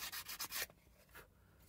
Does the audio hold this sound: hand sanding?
yes